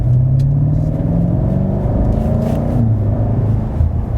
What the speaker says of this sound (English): Now let's apply some throttle.